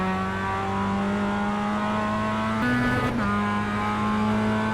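Steady, droning engine of a Mazda MX-5 Cup race car in iRacing, held at high revs with a brief shift or lift in pitch midway, close and continuous throughout.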